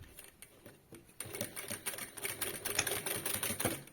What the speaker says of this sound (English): I'm going to be sewing on this line